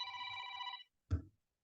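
A phone rings somewhere behind a sofa, a steady electronic ringtone lasting under a second, followed by a short dull knock, quiet with no talking.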